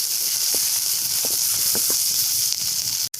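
Ginger, onion and potato sautéing in a pan give a steady, close sizzling hiss, with a few soft clicks from stirring and no talking.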